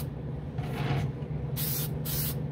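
Testors lacquer spray can misting paint onto a model car body in short hissing bursts, near and soft, separated by brief pauses over a low room hum.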